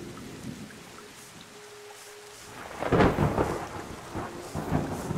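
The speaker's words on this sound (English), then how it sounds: "It's raining." Steady rain patters throughout in the video game Terra Nil, then a loud rumble of thunder rolls in midway and lingers, with rain continuing beneath it.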